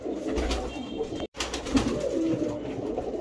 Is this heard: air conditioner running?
no